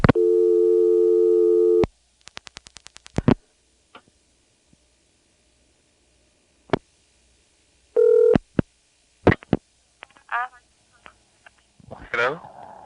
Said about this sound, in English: panels ring to their busy signal